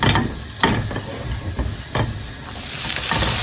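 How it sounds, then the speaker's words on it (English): Chopped onions sizzling and frying in a pan for beef stroganoff, a steady close hiss broken by a few sharp clinks of a utensil against the pan. "You really have to fry your onions to be brown."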